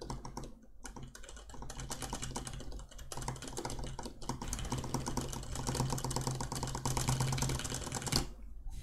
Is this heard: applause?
no